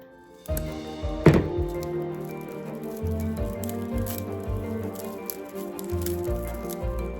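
Dry grapevine wreaths are pulled apart by hand, giving scattered woody snaps, cracks and rustling thumps at close range, with one sharper crack early on.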